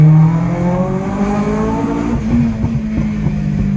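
A 250 bhp Honda Civic Type R EP3 accelerates hard, its engine note rising sharply before a gear change, then exhaust pops and crackles break out over the loud, close engine roar.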